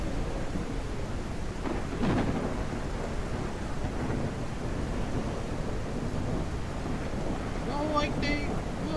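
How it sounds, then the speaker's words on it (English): Thunderstorm in a video game, a steady broadband roar of rain and wind with low rumbling thunder swelling around the two-second mark, continuous and fairly loud throughout. "A thunderstorm."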